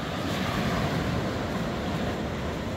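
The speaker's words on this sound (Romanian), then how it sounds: "S-a cam nervat marea, nici valuri uriașe." Sea surf washes steadily onto a sandy beach near Naples, a continuous broadband roar with wind buffeting the microphone and no individual wave breaks standing out.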